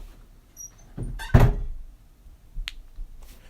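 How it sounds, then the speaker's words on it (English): A door closes nearby with a single solid thunk, followed a moment later by a faint sharp click in an otherwise quiet room. "Hey, please close my door."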